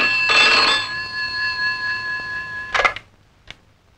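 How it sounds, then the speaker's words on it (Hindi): An old telephone in a Bollywood action film rings with a bright electric bell, one sustained trill fading out, then a clatter as the receiver is picked up and a short click. "एक मिनट जोशी, तुम्हारे लिए फोन।"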